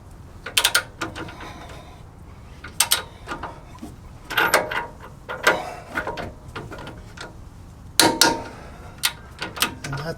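Ratcheting torque wrench with a 22 mm socket tightening the lower ball joint nut on a Toyota Land Cruiser 100 series during a control arm replacement, giving several short bursts of clicking, close and clear, with no talk.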